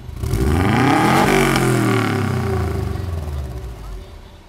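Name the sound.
Subaru Impreza engine revving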